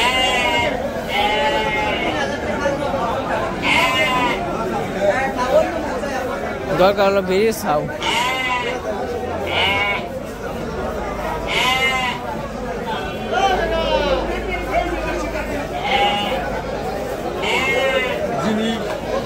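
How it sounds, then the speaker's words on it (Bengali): Large Jamunapari ram goats bleat over and over, loud and close, their wavering cries rising above the chatter of people talking at a busy village livestock gathering. "রাম ছাগল"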